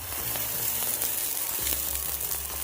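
Moroccan flatbread (khobz) fries in oil in a pan, giving a steady, close, loud crackling sizzle with scattered sharp pops throughout.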